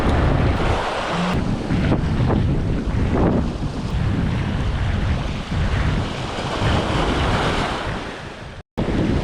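Strong wind buffets the microphone at the seaside while lure fishing, with a constant loud roar and surf wash filling the whole scene and a brief cut near the end.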